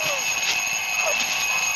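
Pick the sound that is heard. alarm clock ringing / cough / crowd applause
alarm clock ringing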